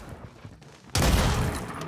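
A sudden loud shot from a video game sniper rifle cuts through quiet background noise. It is followed by a dense crackling tail of gunfire that continues to the end.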